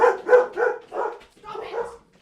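Several dogs bark in a rough run of about five loud, close yelping bursts, each separated by short gaps, with no talk over them.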